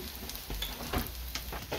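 Sausages fry in a pan for arroz paisa, a steady close sizzle with occasional stirring scrapes and soft knocks, with no voices.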